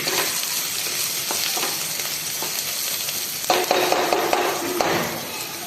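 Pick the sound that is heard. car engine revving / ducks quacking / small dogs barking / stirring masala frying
stirring masala frying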